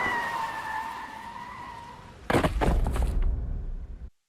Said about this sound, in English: Xianhua heads down the street only to be hit by an incoming car.